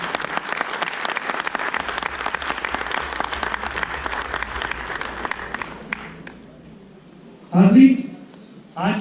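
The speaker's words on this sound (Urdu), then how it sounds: "تو میں چاہوں گا ایک دفعہ بھرپور تالیاں ہمارے والد عزیز محمد انعام اللہ صاحب کو." Steady audience applause fills a hall at an Urdu literature and arts evening in Atlanta, dense and sustained for about six seconds before thinning out, followed by a brief burst of voice.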